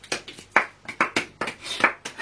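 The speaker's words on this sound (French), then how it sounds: "Merci, on applaudit s'il vous plaît." A few people clap after a tattoo session, close and fairly loud, with distinct bursts of claps at an irregular rhythm and no talking.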